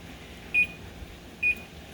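A kitchen oven timer gives two short, clear electronic beeps about a second apart over a low background hum.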